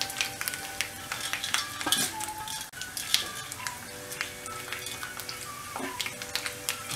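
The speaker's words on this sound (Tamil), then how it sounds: "இதை நல்லா இந்த எண்ணெயில் ஃப்ரை பண்ணிடலாம்" Mustard seeds, dried red chillies, urad dal and chana dal frying in hot oil for a Tamil tempering, with a steady close sizzle, scattered pops and crackles, and occasional stirring and utensil clinks throughout.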